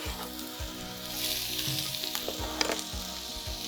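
Onions sizzle in a hot pan with a loud, steady frying hiss, while a utensil stirs them in soft, rhythmic scrapes and a light clink near the end; no one speaks.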